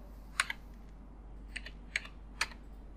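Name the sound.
typing on a computer keyboard to enter a CAPTCHA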